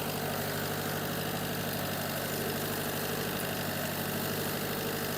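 A Mitsui generator running steadily under a heavy electrical load, its engine a loud, constant drone with an even low hum and no change in speed throughout, no voices.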